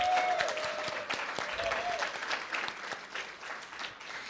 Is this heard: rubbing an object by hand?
no